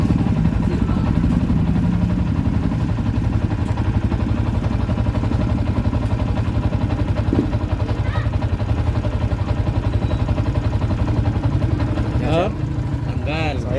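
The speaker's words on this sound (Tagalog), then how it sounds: "Umaandar pa rin yung motor, working na." A Yamaha Sniper 150 motorcycle engine keeps idling steadily and loudly up close, with an even, unbroken rhythm. A few faint clinks come near the end.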